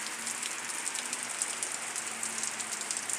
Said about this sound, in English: it has begun to rain once again.